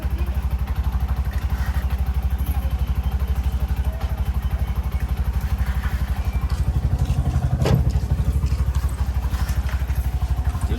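A motorcycle engine running close by, with a steady, rhythmic throb and a faint clatter throughout. A brief bump comes partway through, and no voices are heard.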